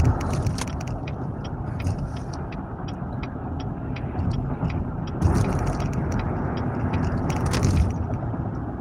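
Steady road traffic rumbles past nearby, a dense continuous wash of car noise with small clicks and rattles, swelling slightly in the middle and near the end.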